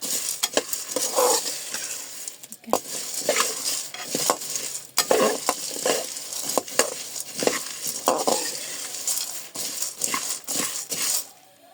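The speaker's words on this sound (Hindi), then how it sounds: "यहाँ पे हमारे चने जो है ना वो अच्छे से रोस्ट हो चुके हैं।" Dry chickpeas being stirred and roasted in a hot pan, a steady rattling scrape of spoon on metal with repeated dry clattering strokes throughout, close and fairly loud with no talk.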